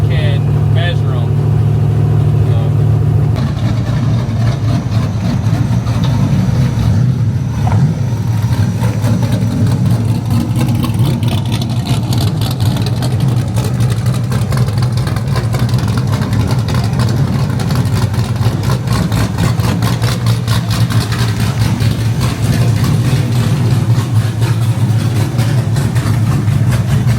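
Two cars idle with a steady, loud low rumble as they are pulled into the Weld Wheels factory, the engine drone holding constant throughout while voices come and go over it.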